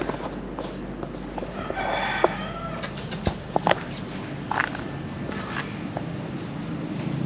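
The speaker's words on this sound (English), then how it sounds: "over here we have a white cat, which is very fluffy and beautiful" A fluffy white cat meows a few times at moderate distance over steady outdoor background noise at a guest house in Kuta, South Lombok, with scattered knocks and footsteps around it.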